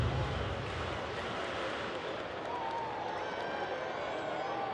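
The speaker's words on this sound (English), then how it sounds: "trying to get the wave started on the left side of the stadium" A baseball stadium crowd of about 29,000 at a Rangers–Angels game makes a steady, broad roar of cheering and clapping as fans try to start the wave, heard from a distance without a break.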